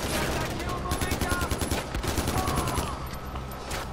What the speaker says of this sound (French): Il y a un mec qui me tire dessus